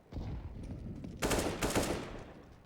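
Rifle fire from a Counter-Strike: Global Offensive match comes in short, fairly faint bursts of rapid shots, with a sharper cluster in the middle of the brief stretch.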